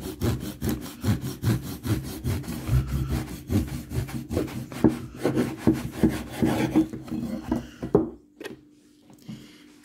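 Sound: cutting a loaf of bread

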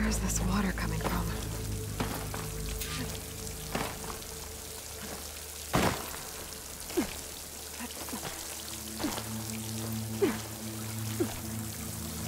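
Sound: water flowing into a wall in Horizon Forbidden West video game

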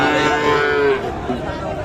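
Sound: Sahiwal cattle mooing at a livestock market

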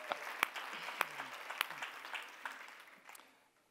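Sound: audience applause for executives

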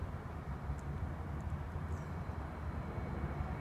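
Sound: WestJet airplane flying overhead

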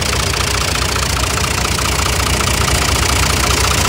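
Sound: Kubota M5500DT tractor three-cylinder engine running

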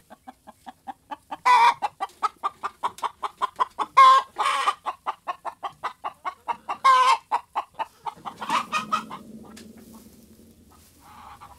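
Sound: chickens clucking in a coop

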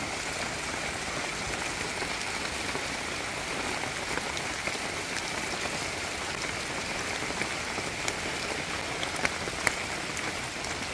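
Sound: rain falling outdoors

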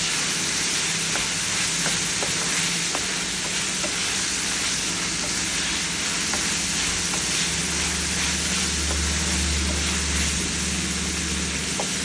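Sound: tomatoes cooking down in a pan

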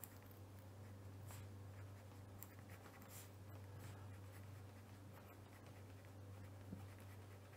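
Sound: writing by hand in red

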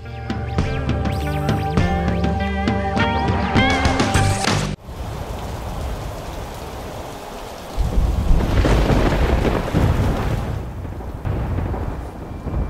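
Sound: thunderstorm with heavy rain

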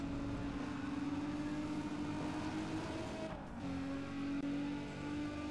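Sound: car engine in Need for Speed ProStreet video game

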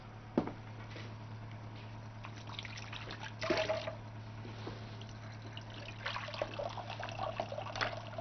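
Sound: water poured into a dish for rice

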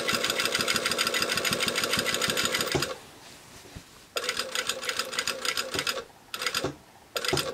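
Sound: sewing machine sewing a basting stitch on jeans

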